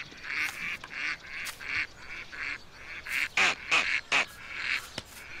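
A cartoon duck from a Cyanide and Happiness animation quacks in a run of loud, honking calls, several repeated in quick succession, with no talk over them.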